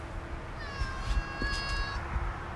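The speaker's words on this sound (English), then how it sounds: "Look, everybody, it's Shop Cat" A resident shop cat at a car workshop gives one drawn-out, clear meow at close range over a low background hum.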